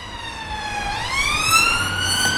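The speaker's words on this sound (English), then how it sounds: "Well, another police car." A police siren wails steadily, its pitch dipping and then rising again as it sweeps, loud and close, with traffic rumble underneath.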